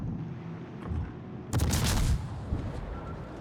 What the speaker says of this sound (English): Drop those depth charges on him.